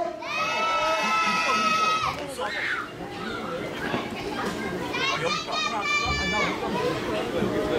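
A crowd at an outdoor community festival concert in Korea shouts together for an encore, a loud sustained wash of many voices, high-pitched calls and cheering.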